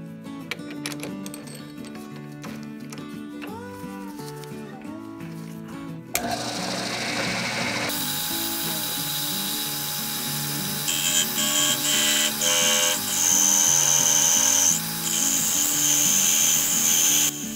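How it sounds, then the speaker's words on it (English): Metal lathe turning a hanger rod for a lawnmower-powered car build, a steady high metallic whine with shifting tones that runs continuously and grows louder, following a stretch of tonal, music-like sound. "Let's fabricate a hanger rod on the lathe."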